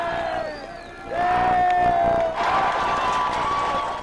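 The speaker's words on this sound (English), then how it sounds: "The big cheer when the Giants went ahead." Sports bar crowd of Giants fans cheers, whoops and shouts loudly after a brief lull, the roar rising sharply and holding with scattered yells and voices.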